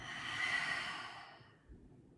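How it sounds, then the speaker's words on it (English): A single long exhale pushed out through the mouth during a relaxing yoga session, a soft breathy rush that swells and then tapers away over about two seconds, close and alone. "big exhale out your mouth, letting it all go"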